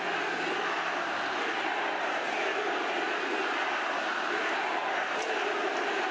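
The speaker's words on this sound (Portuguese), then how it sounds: "por muitos momentos, foi ovacionado e aplaudido pelo povo" A large crowd roars and cheers continuously for the president at an outdoor rally, a dense, steady wall of voices that holds at the same level throughout without any break.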